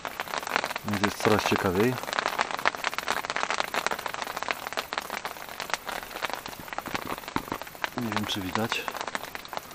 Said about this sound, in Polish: nawet zaczęło padać gradem